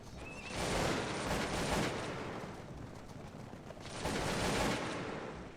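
Musket volleys in the Cossacks II Battle for Europe strategy game, two crackling bursts of massed gunfire rising and fading in waves, quite distant and muffled.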